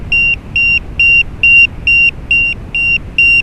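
An electronic device beeps in a steady, evenly spaced series of about eight loud, high-pitched tones over a low background hum, with no talking.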